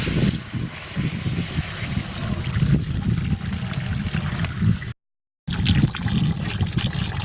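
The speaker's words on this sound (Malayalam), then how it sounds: "നമുക്ക് വെള്ളം ഒഴിച്ചു കൊടുക്കാം" Water poured steadily into a hot pan for cooking beef parts, a continuous close trickling splash with a brief break partway through.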